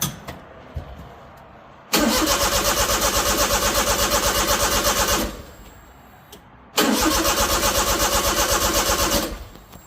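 A Honda Beat fitted with an E07Z engine cranks without catching, two long loud bursts of rapid rhythmic starter churning separated by a short quiet gap, close up and alone.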